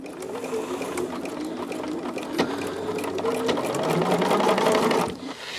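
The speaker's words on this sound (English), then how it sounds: "This is our last few stitches." A sewing machine puts the last few stitches into a cotton quilt, running as a close, loud, continuous whirring rattle of rapid needle strokes, then stopping abruptly near the end.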